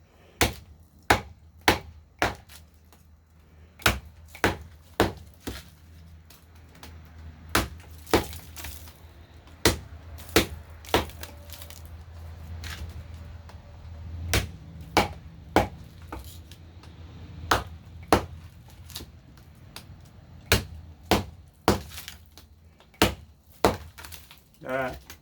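Cold Steel Recon 1 knife chopping into a gallon jug of ice, sharp repeated cracks and thunks in irregular bursts, close and loud over low background rumble.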